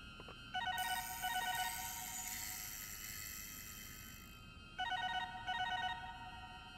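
A telephone rings in the LittleBigPlanet 3 game in a quiet room: two pairs of trilling electronic bell rings, clear and fairly close, separated by a long gap that fills with a soft lingering tone.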